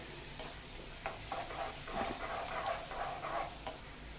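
Oil sizzles steadily in a pan as a thick puree of tomato, chilli and garlic is stirred, with soft scraping and bubbling, close and fairly quiet, no talking.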